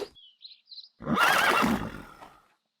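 A horse whinnies loudly once, a shaky breathy neigh trailing off, preceded by a few faint high chirps.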